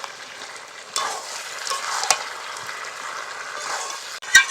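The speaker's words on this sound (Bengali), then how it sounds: "এটাকে খুব ভালো করে চিকেনের সঙ্গে মিশিয়ে নেব।" Ginger garlic paste is stirred into chicken frying in a pan for a country chicken curry, with a steady close sizzle and a few scrapes from the spoon, ending in a sharp clatter.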